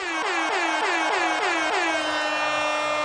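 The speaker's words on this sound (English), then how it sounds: "Someone pounds an air horn." An air horn is pumped at a Democratic political event in a rapid series of about six blasts, each with a falling wail, ending in one sustained loud blare.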